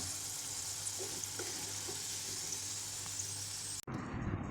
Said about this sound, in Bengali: খুব বেশি হাই কিংবা খুব বেশি লো হিটে না রেখে মিডিয়াম আঁচে রেখে আমি পটেটো বাইটসের টুকরোগুলো ভেজে নিচ্ছি